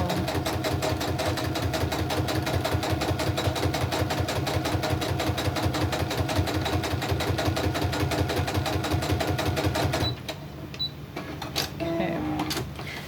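A sewing machine stitches a seam on a crazy crumb quilt block with a fast, steady mechanical rhythm, close up, running for about ten seconds before stopping, followed by faint handling noises.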